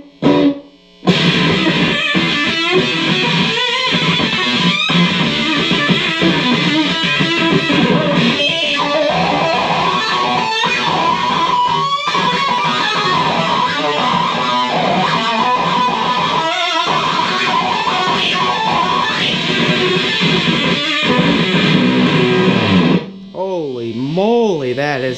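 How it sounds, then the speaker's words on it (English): Electric guitar through a Dano-Wah DW-1 pedal on its 60s rock B setting with octave and distortion engaged, a loud, fuzzy, sustained tone that sweeps and wobbles, briefly stopping near the start and ending in a warbling tail. "60s rock B with the octave and distortion on."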